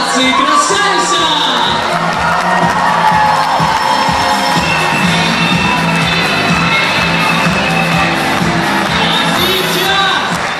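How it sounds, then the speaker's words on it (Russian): A pageant hall audience gives a loud, sustained ovation for beauty contestants at a university Miss pageant, with dense cheering, whoops and shouts rolling on continuously throughout. "Друзья, ваши бурные овации красавицам!"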